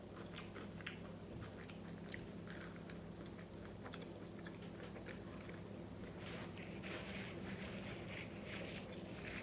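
Someone chews Alexia frozen fries close to the mic, with soft, irregular crunching and mouth sounds over a low background hum, and nobody speaks.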